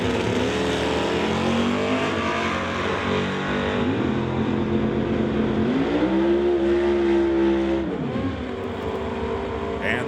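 At a drag strip, a 1967 Camaro and a Malibu race, their engines roaring loud and steady with pitch rising and falling through gear changes, while an announcer talks over the noise.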